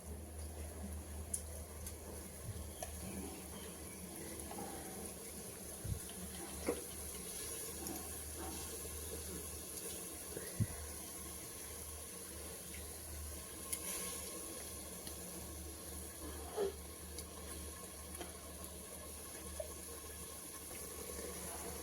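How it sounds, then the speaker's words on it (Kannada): Water is poured into a mixer jar while a village-style bassaru is prepared, giving a steady, continuous rushing hiss with small splashes throughout and no talking. "ಈ ಮಿಕ್ಸಿ ಜಾರ್ಗೆ ನೀರು ಸೇರಿಸಿ ಹಾಕ್ಕೊತಿದ್ದೀನಿ"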